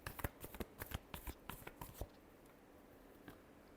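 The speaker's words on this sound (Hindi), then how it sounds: "Last shuffle." A deck of tarot cards shuffled by hand in a quick run of crisp riffling snaps for about two seconds, then a lone faint tap in a quiet room.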